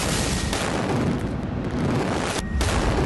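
An RPG strike hits a house in Khan Younis, Gaza, near Nasser Hospital: a loud, sustained broadband roar and rumble fills the whole stretch, with a brief dip midway and no voices.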